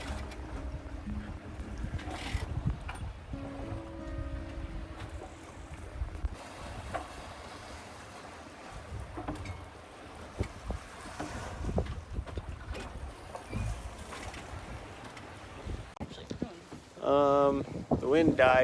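A sailboat pushes through waves on Lake Michigan, giving a continuous rushing wash of water and wind buffeting, with a person talking over it and a brief squeaky noise near the end.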